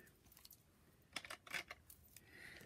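Scissors snip through ribbon, a few quick, faint metallic cuts close by in a quiet room.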